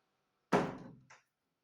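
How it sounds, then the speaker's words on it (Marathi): A single solid thump of a hall balcony door, close and fairly loud, with a short rattle settling after it, then silence. "ए आपल्या हॉलच्या गॅलरीचं दार आहे"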